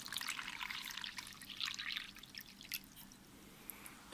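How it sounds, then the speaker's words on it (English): Water drips and trickles into a five-layer waterproof KN95 earloop face mask, bright splashy patters coming in uneven bursts, close and fairly quiet. "Now we drop some water inside."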